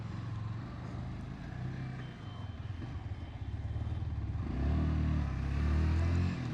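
A 2025 Yamaha MT 15 V2 motorcycle accelerating, its engine a close, throbbing low drone that climbs in pitch and loudness toward the end as the throttle opens.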